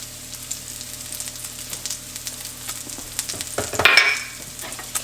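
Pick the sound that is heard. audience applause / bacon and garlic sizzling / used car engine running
bacon and garlic sizzling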